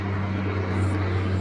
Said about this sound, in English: May dumaan na aeroplano dito.